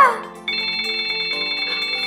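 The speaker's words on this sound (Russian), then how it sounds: "Телефон звонит." A phone rings in a cartoon café, a steady electronic ringtone repeating its rapid trill after a brief fading tone at the start.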